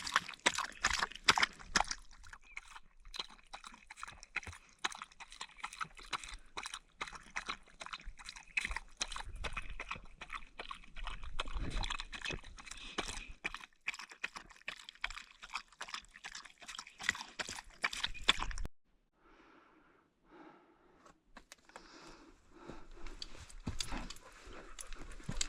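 A dog eats dry food mixed with turkey and lots of water on the Appalachian Trail at Mt Hayes, New Hampshire: close, wet, rapid lapping and chewing for about eighteen seconds, then quieter sporadic sounds.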